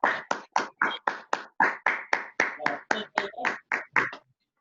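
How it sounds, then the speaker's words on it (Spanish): Participants in an online closing session clap through open microphones, producing a steady series of about sixteen sharp, evenly spaced claps that stop abruptly near the end. "les pediría que abran su micrófono para darles un muy fuerte aplauso a ustedes"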